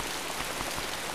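Steady, dense rainfall hisses evenly throughout in the video game Zettai Zetsumei Toshi 2, with no talk or other sounds above it.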